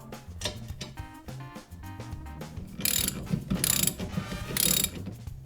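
A ratchet tightens the steering wheel nut on a Volkswagen Beetle or Karmann Ghia steering column, rapid close clicking throughout that turns into three louder, harsher bursts of ratcheting toward the end.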